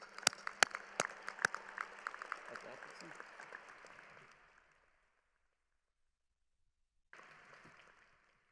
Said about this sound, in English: I'd now like to hear a round of applause for Dr.